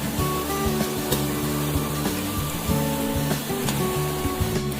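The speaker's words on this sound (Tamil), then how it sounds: "இதுல இப்ப மசாலா கடலை போடுறோம்." Masala peanuts fry in a pan of hot boiling oil, giving a steady close sizzle with faint crackles and scattered clicks over a droning tonal hum.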